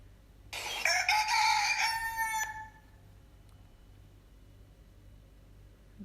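A single rooster crow rings out loudly for about two seconds, then fades into quiet background hum.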